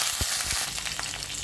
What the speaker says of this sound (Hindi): अब हम इसमें 1/4 कप जितना पानी डालेंगे